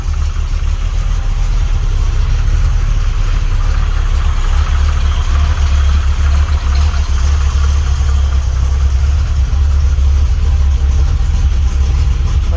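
A Holden HQ engine idles steadily and loud at close range, a continuous low rumble with no voices over it; a wobbling balancer and a bad pulley are noted.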